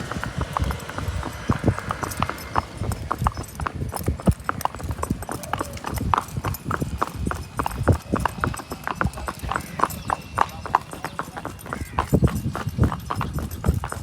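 Rapid, rhythmic clip-clop of mares' hooves trotting close by on a dairy farm, steady and continuous, with faint voices in the background.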